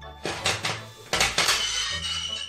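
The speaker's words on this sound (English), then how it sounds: "We're going to put it directly on the stove." A pot of tomatoes is set down on a stove with a few metallic clanks and scrapes, close and fairly loud, followed by a lighter rattle and a lingering clatter of cookware.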